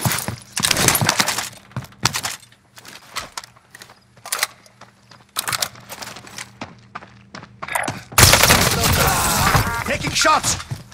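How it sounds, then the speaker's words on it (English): Gunfire in Call of Duty: Modern Warfare: sharp, loud individual shots spaced irregularly, some in quick pairs, followed by a dense rattling burst of rapid fire near the end. "Shots!"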